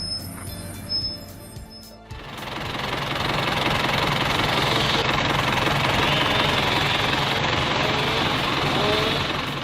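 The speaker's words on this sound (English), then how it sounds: "The LKT-81 turbo skidder powers through the snowy, damp forest, hauling massive logs with ease" A heavy LKT-81 turbo skidder hauling massive logs through a snowy, damp forest: after a couple of quieter seconds the engine swells into a loud, dense, steady rumbling drone that holds close and unbroken, with no voices.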